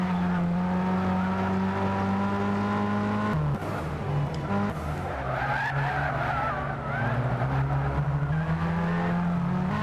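Race car engine roars steadily as it pulls out of the pit lane in the 24 Hours of Daytona endurance racing video game, with sustained harmonic engine tones, a brief gear-change dip and tire skidding throughout, loud and close.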